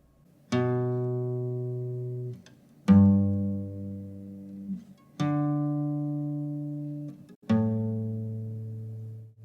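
Four sustained single bass-register notes, the root notes of the chords of a song, are played one after another. Each rings about two seconds and then decays, with no talking.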